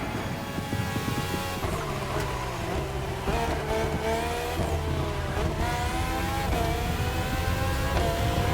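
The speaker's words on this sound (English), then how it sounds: "if you've got any extra nitro, now's the time to use it." Race cars in The Crew Motorfest video game, in a Red Bull Speed Clash event, roar continuously at high revs, with tyres squealing and shifting engine tones through a nitro-boosted final lap.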